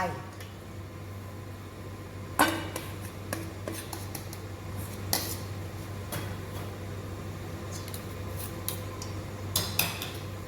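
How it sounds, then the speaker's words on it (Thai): Mascarpone is beaten into whipped egg yolks for tiramisu, with irregular clinks and taps of a utensil against the bowl at close range, under a low background hum and soft talk. "แล้วก็ตีค่ะ ให้เขาเข้ากัน ให้เนียนเลยนะคะ"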